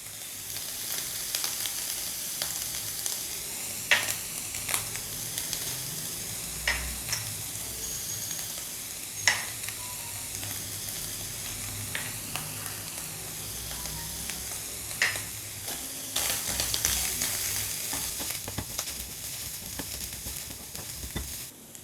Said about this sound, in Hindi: कीमे का कलर चेंज होने तक कुक करूँगी, मतलब इसका जब कलर चेंज होगा तब हम इसमें चीज़ें ऐड करेंगे जी।